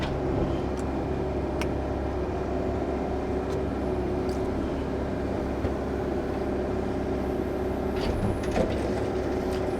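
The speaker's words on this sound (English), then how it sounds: "The clutch compressor's kicked in and running good." A 2009 John Deere 60D rubber-track mini excavator with a cab idles with its air-conditioning compressor engaged, a steady even engine drone with faint clicks and no speech.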